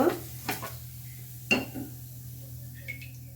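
An egg dish with potato and carrot is flipped in a frying pan with a plate: a few sharp clinks of plate and pan, one loud knock midway, then faint scrapes over a low steady hum.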